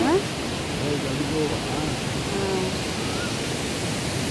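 Hogenakkal waterfall on the Kaveri in full flow, a dense, steady rushing roar of heavy water that fills the whole stretch, close and loud, with faint tonal traces at the start.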